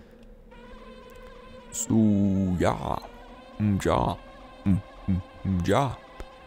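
A buzzing bee in the Banjo-Tooie video game drones steadily with tonal wing-beat harmonics, while someone talks over it in short bursts.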